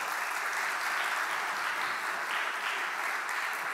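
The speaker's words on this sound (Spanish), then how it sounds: "Un fuerte aplauso." An audience at a talk gives a hearty round of applause, with a dense, continuous wash of clapping at moderate loudness and no voices over it.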